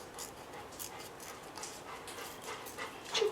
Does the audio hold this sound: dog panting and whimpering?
yes